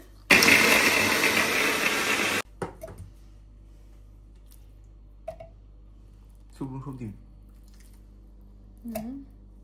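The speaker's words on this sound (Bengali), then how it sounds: "আগে এই যে পেঁয়াজ কুচি দিয়ে দিলাম একটু ব্লেন্ডারে" A kitchen blender chopping onion pieces roars loudly for about two seconds, then cuts off abruptly, followed by quiet room tone with a few brief clicks and short bursts of speech.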